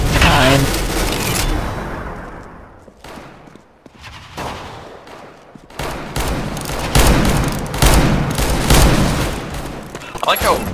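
Rapid bursts of gunfire from CS:GO, fired while the player keeps running, crackle loudly through most of the stretch with a short lull in the middle before dense shooting resumes. A voice talks over some of it.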